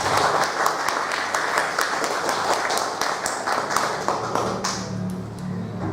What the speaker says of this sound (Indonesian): coba tepuk tangan buat kita semua